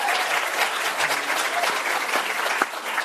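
An audience at a live debate event in Auckland breaks into loud, sustained applause, dense clapping filling the room evenly from start to finish.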